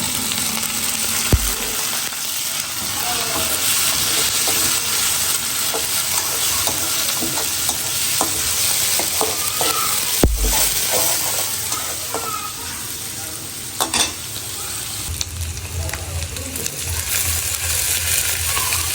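Prawns sizzle and fry in a pan with onion and chili, a steady crackling hiss with occasional stirring scrapes and clinks close by.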